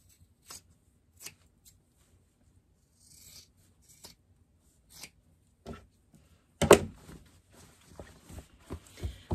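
Scissors snip through fabric at the seam and box corners of a sewn car trash can, giving quiet, sparse clicks spaced out in a calm room, a few closer together near the end.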